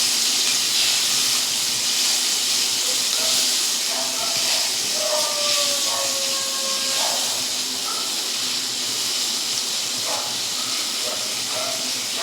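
Chopped onion sizzling and hissing in a hot pan as it is sautéed with paneer, a steady broadband frying hiss throughout with faint scraping and brief tonal squeaks in the middle.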